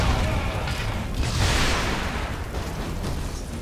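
A tank exploding in Red Faction Guerrilla, a heavy sustained boom rolling into a loud rumbling blast that fills the whole stretch.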